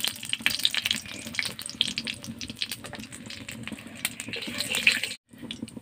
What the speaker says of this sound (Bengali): কড়াই আমি তেল দিয়ে দিয়েছি, তেলটা গরম হয়ে গেছে। এবার দিয়ে দেবো ফোড়নে জিরে